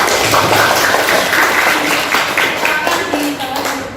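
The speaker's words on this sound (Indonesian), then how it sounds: "Kasih tepuk tangan ya." Students in a classroom clap after a group presentation, a loud, dense patter of applause from a small audience that gradually thins toward the end.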